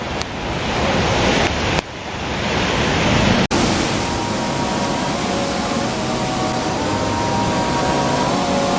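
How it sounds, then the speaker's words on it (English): Multnomah Falls, a waterfall in the Columbia Gorge, roars as a loud, steady wash of broadband rushing water with no pauses, briefly interrupted by a couple of sharp cuts. "So here I am at Multnomah Falls."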